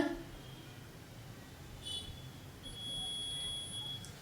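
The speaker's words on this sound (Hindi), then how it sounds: "जैसे आप केबल के ऊपर जाओगे वैसे ही अपना रीडिंग ज्यादा हाई रीडिंग करेगा और आपको ये बीप देगा" An underground telephone cable detector held over a buried cable gives faint high-pitched electronic beeps: a short chirp, then a longer steady tone, all low against background hiss.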